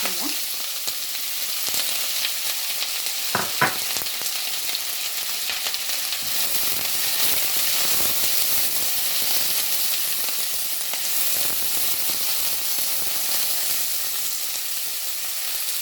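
Fennel seeds and onion frying in a pan, a steady, close sizzle with a few stirring knocks near the start, going on without talk.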